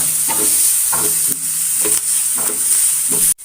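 Finely chopped green chillies sizzle steadily in a hot pan while a spoon stirs them in regular scraping strokes, loud and close with no talk.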